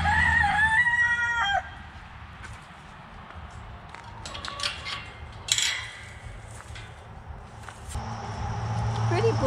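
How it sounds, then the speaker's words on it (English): A pet rooster crows indoors at close range, followed by quieter clucks, small clatters and footsteps, and then another vocal call near the end, while a person speaks softly at times. "look, a pretty boy is crowing."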